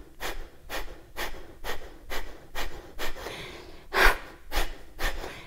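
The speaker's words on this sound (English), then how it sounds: "press the elbows back and forcefully exhale" Forceful, rhythmic pranayama exhalations sound close and sharp, about ten quick breath bursts in a steady pulse, with one louder huff near the end.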